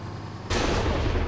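Weapon fire from a modded Minecraft gun bursts in abruptly and holds as a dense, loud, continuous barrage, like rapid automatic shooting with no pauses.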